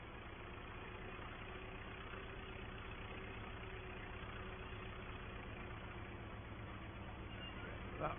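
Loader tractor engine idling and running steadily during old-style sugar beet lifting on a farm, a constant low mechanical drone with a faint whine, with speech over it.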